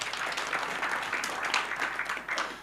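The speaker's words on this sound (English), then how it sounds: "Can we clap for him, please?" Conference audience at a Kenyan jobs event applauds, a dense patter of many hands clapping at moderate distance, steady for a couple of seconds before a louder bump at the end.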